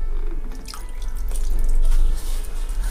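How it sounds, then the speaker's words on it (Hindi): Water is poured a little at a time into flour for paratha dough, giving a close splashing and trickling with uneven surges, continuous over a few seconds. "थोड़ा थोड़ा पानी डाल के और आटा लगाएंगे।"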